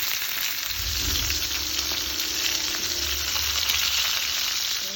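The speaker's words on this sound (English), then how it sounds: "I want to get hot oil popping on all sides" Beef short ribs sear in hot olive oil in a skillet, a steady dense sizzle with crackling oil pops running the whole time, close up and with no talking.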